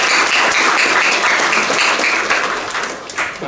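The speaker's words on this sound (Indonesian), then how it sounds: "Tepuk tangan juga buat semua anggota Menwa ini." Loud applause for student regiment members at a governor-attended installation ceremony, a dense crowd clapping that holds strong before thinning into scattered claps near the end.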